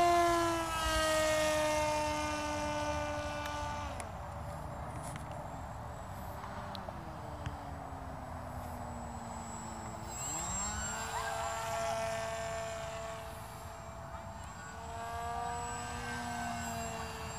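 An FT Spear foam model airplane's electric motor whines steadily at full throttle, a sustained tone rising and falling in pitch as the plane passes and banks, loud throughout with faint wind.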